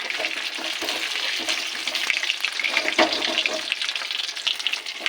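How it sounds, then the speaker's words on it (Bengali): Brinjal slices fry in hot oil in a pan for an eggplant fopra dish, giving a steady close crackling sizzle with small pops throughout, and no voices. "এইভাবে লাল করে ভেজে নিতে হবে"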